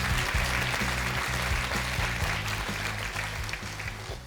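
Studio audience applause on a televised crowdfunding special for social enterprises, full sustained clapping with a low background hum, steady and gradually easing.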